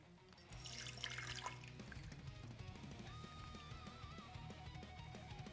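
Soaked seeds and water poured through a strainer into a cup, a brief splash followed by a steady trickle and dripping of water, close and fairly quiet.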